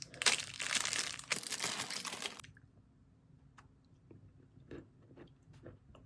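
Someone bites into a nut cookie with loud, crisp crunching at first, then quieter, sporadic chewing and mouth sounds close up.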